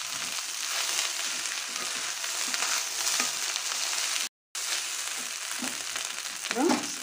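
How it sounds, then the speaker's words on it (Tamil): Chicken fried rice sizzles in a pan with a dense, bright frying hiss that holds steady from start to end, broken by one very short gap and a small clatter near the end. "ஒரு 2-3 மினிட்ஸ் ஃப்ரை பண்ணலாம்."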